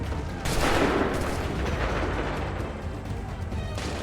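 A musket volley crackles out in Assassin's Creed 3, a ragged burst of gunfire erupting sharply after a brief pause and then rumbling and fading with scattered later shots, mid-distance.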